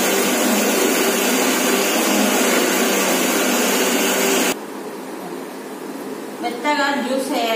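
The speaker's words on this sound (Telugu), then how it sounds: "మెత్తగా జ్యూస్ అయ్యేలాగా పట్టాలి." A mixer grinder blending mango into juice runs with a loud, steady motor whir for several seconds, then cuts off abruptly. Quieter room sound follows, with someone speaking near the end.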